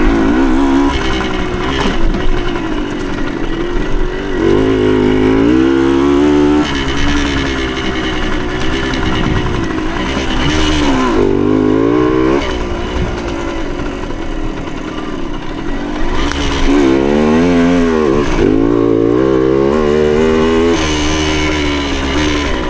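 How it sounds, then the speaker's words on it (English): A 1975 Suzuki TS125 Duster two-stroke trail motorcycle is ridden on trails, its engine buzzing loud and close, rising and falling repeatedly as the throttle opens and eases off throughout. "nice little trail bike."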